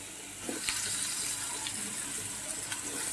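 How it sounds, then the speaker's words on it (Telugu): Water poured into a pan of mutton and drumstick curry makes a steady, close splashing stream that runs throughout, with no voices over it. "వాటర్ వేద్దాం."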